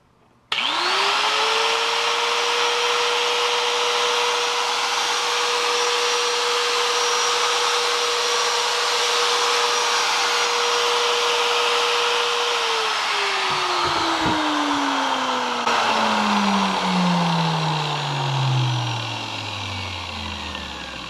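A Mastercraft Maximum paddle-switch angle grinder spins up and screams at a steady high pitch for a long stretch, then is switched off and winds down with a falling whine.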